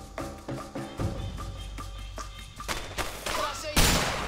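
Gunfire in the co-op action game A Way Out, a string of sharp shots in quick succession with short gaps, ending in a louder blast, with voices in the background.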